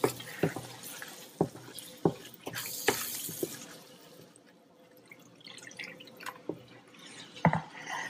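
Water poured into a simmering masala of tomato paste in a cooking pan for chicken kofta, heard as a close, trickling pour with intermittent drips and splashes over a quiet kitchen background.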